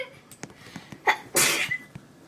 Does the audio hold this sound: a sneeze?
yes